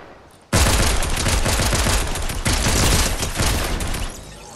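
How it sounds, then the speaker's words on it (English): Sustained gunfire in the Fortnite video game, a sniper rifle among the shots, comes as a loud, dense burst of rapid reports that starts abruptly and rolls on for several seconds before easing off. "Oh fuck, somebody sniped."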